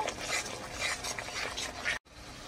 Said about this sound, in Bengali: এটা এখন ভাজা হবে, তেল ছেড়ে দিবে ভাজতে ভাজতে।